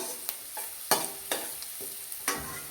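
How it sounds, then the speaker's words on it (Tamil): Onions and fennel seeds frying in oil in a pan for a pasta dish, a steady sizzle broken by a few sharp stirring scrapes and clatters, close and moderately loud with no talking. "இப்போ எண்ணெயை ஊற்றிட்டு சோம்பு போட்டுட்டு அதுக்கப்புறம் வெங்காயம் போட்டு நல்லா ஃப்ரை பண்ணிக்கணும்."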